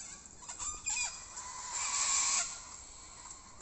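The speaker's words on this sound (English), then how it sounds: "the chooks are just in the mix there with the cockatoos." Cockatoos and chickens call together outdoors, faint and somewhat distant, with scattered raspy squawks and clucks building into a louder overlapping screech midway before fading.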